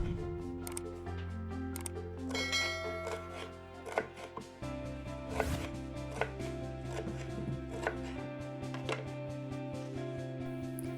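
Salad ingredients cut into long strips with a knife, a series of sharp irregular chops on a board, close and clear, over a bed of steady background music.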